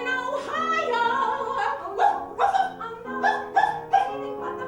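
A dog barks and yips several times in a quick uneven series, the barks close and fairly loud over a sustained tonal background, with no speech.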